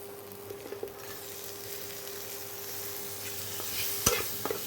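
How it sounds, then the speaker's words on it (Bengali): Chopped tomatoes fry in a pan, a steady soft sizzle that rises slightly toward the end, broken by a few spoon scrapes and one sharper clink near the close. "এবার এই টমেটো কুচিটাকে একটু নাড়াচাড়া করে নেব। নিয়ে টমেটোটাকে এবার একটু ভেজে নেব ভালো করে।"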